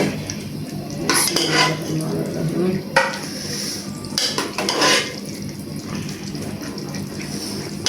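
A metal spoon stirs mixed spices into pumpkin and chana dal in a cooking pot, giving repeated scraping clanks and utensil knocks against the pot in bursts, close and fairly loud, with no talking.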